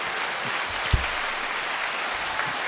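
Light clapping during a podcast recording, a soft, even patter of hands with one louder thump near the start.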